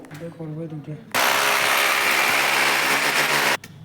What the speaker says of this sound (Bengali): এখন ড্রিল করবো